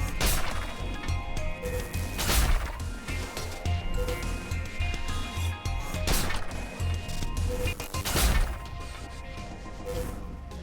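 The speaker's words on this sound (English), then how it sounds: "Fires his arm cannon at Bolty." An arm cannon fires in the sci-fi video game Star Crawlers, several loud crashing blasts roughly every two seconds over a dense, rumbling game soundtrack.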